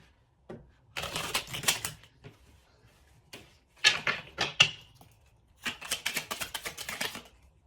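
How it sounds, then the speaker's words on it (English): Oracle cards being shuffled and pulled from a deck, three bursts of quick riffling and flicking clatter separated by short pauses, close and fairly quiet, with no talking. "I'm going to pull some angel answers cards after I pull these Hidden Truth Oracle cards for you guys"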